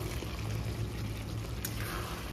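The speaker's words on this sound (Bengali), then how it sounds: "এখন এর মধ্যে দিয়ে দেবো ভেজে রাখা আলু" Fried potatoes tumble into a pan of cabbage curry, making a brief rustling, sizzling wash of sound, close and steady, with no talking.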